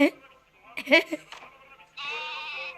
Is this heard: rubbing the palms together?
no